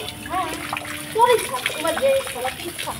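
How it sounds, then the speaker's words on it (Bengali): Water splashes while someone washes their face, soft irregular splatters under a person speaking throughout. "মুখ ধোবো।"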